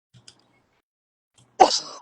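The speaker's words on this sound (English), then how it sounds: "I didn't want to cough in the microphone" A short throat clearing or cough, muffled and kept away from the mic, comes as one loud burst after near silence with a couple of faint sounds before it.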